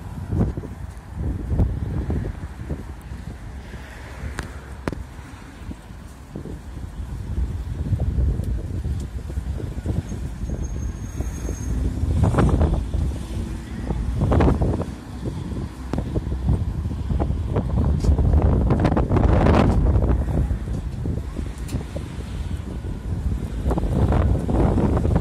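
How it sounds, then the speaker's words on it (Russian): Cool wind blowing outdoors on a sunny day, heard as steady broadband rumble and buffeting against the microphone, with gusts swelling and fading over the whole stretch and no talking. "Сегодня солнечно, но чувствуется все равно прохладный ветер."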